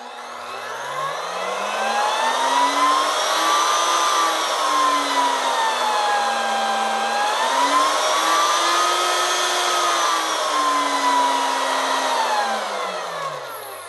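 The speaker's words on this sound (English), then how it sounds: "Let's do a test run right now, just to listen to the motor." A Canadian Tire dual base router runs unloaded in a test, its motor whine climbing smoothly through a soft start and then holding a loud, steady pitch that wavers gently before easing off at the end.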